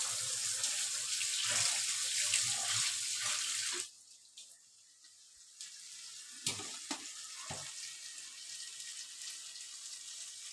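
Rice being washed under a running kitchen tap: steady rushing water for a few seconds, then the flow stops and quieter splashes and sloshing follow, close and alone.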